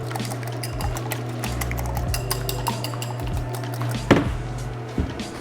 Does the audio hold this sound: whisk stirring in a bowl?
yes